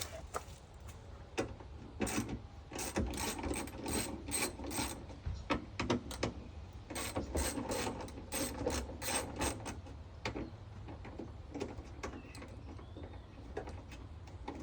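A ratchet with a 10 mm socket loosens a hood bolt on a Ford Fusion, sounding as bursts of rapid, crisp clicks in uneven runs with short pauses between strokes, close and fairly quiet.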